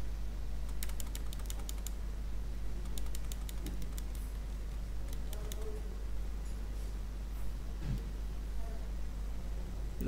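Someone types text into MS Word on a computer keyboard, producing faint bursts of quick key clicks over a steady low hum in a quiet room.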